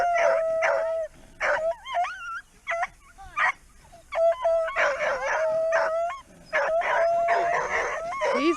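Several dogs on a homestead howl, whimper and bark in overlapping bursts, loud and close, with short pauses between choruses and a long sustained howl recurring throughout.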